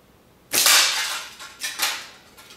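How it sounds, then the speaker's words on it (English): Slingshot (Drew Bilbrey Mulberry PFS) firing half-inch marbles at close range in a garage: a sharp loud snap of release followed by a couple of quicker impact cracks and rattles, no voices. "Shooting half inch marbles, not to the distance, relatively close because I am in my garage"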